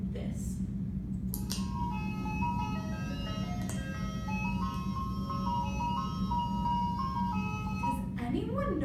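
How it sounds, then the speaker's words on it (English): An ice cream truck plays its tinny repeating jingle melody over a steady engine hum on a road, moderately near, with a voice briefly heard. "The ice cream truck."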